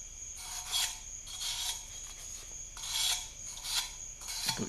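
Cheap sanding belts running against a part from a 1966 Chrysler 300, giving a rough, rasping grind that swells and fades in repeated strokes about once a second, close and loud, with no talk.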